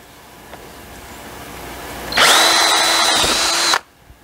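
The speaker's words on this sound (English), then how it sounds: "Now I have to drill a bigger hole for my larger dowel." After a quiet pause, a power drill whirs loudly into wood for about a second and a half, then stops abruptly.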